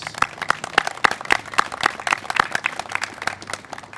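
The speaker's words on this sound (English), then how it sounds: "please give our governor another big round of applause" A crowd applauds the governor at an outdoor flood mitigation funding event in Ellicott City, with scattered, moderately loud claps that keep a loose rhythm throughout.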